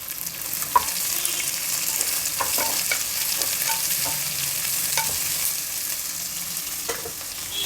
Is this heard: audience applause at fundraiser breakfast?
no